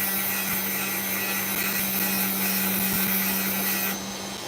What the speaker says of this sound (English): Maybe I'm going to finish the rest up with the sandpaper.